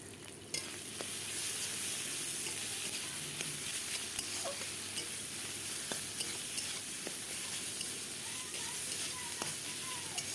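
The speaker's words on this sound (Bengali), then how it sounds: "মশলাগুলো আমার মোটামুটি ভাজা হয়ে গেছে" Ginger and cumin pastes sizzle and crackle steadily in hot oil for several seconds, with occasional scraping stirs and small pops, loud and close.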